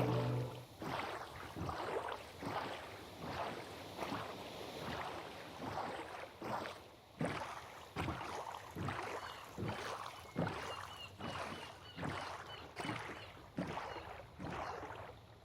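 A boat sailing across open water in Minecraft, with repeated rhythmic paddle-like splashes about every second over a constant wind-and-water wash, steady and moderately loud, no talking.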